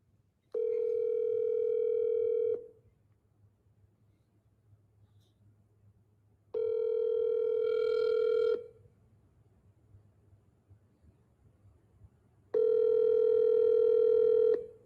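Three steady phone tones, each lasting about two seconds, sound at regular intervals with quiet gaps while a call is placed on a phone; a faint low hum runs underneath and no one speaks.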